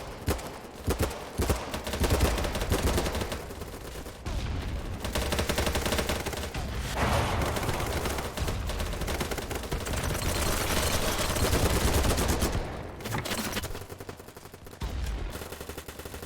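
A magazine is emptied in the Battlebit video game in long, loud bursts of close automatic gunfire, dense and sustained with brief gaps between volleys, with distant shots and impacts mixed in.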